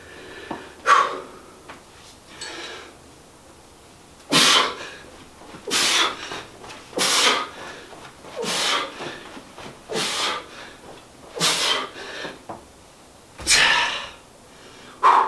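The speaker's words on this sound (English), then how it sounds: "I want you to pay attention to my breathing" Heavy, loud breathing from a person doing a kettlebell figure 8 carry, with sharp forceful exhales and gasps at irregular intervals of a second or two, close to the mic with quiet pauses between.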